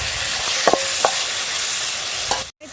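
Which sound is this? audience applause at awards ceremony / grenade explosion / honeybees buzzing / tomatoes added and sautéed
tomatoes added and sautéed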